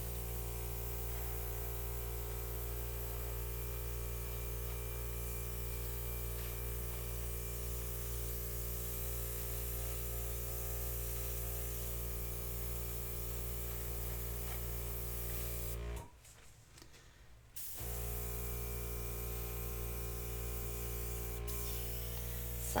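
A steady airbrush spray hisses continuously over a Dutch-pour acrylic painting, broad and even with a faint hum, cutting out briefly for about two seconds near the end before resuming.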